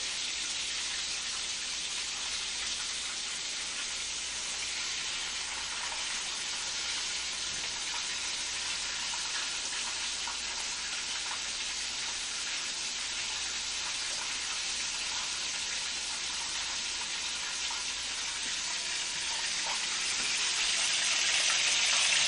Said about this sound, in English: It's starting to fry up.